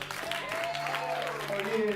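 A comedy show audience applauds for the band, a steady wash of clapping running under a voice as he talks over it.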